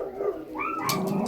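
A dog barking and whining nearby, a short yelping vocalization rising in pitch against a steady background.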